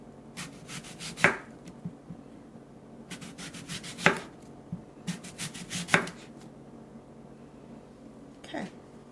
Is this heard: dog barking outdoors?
no